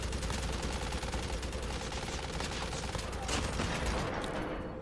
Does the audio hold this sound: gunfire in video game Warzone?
yes